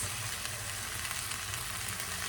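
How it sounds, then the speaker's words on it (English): Ground meat with frozen peas, carrots and spices sautés in a pot for hamburger soup, a steady, dense sizzle that fills the short stretch at an even, close loudness without pause. "we're going to saute this meat and veggie mixture for about 5 minutes"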